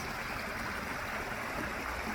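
A creek flows steadily nearby, its continuous broadband rush and trickle of running water filling the whole stretch at an even level with no voices.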